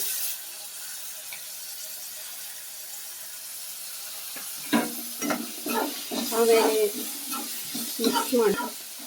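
Washed legumes hit a hot pan and sizzle after a quiet stretch, with stirring scrapes and crackling bursts that rise and fall, while a voice talks over the cooking.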